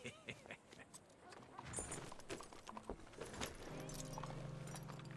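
Horse hooves in Red Dead Redemption 2, a clip-clop of hoofbeats under a man's speech, settling into a steadier rhythm toward the end amid game ambience.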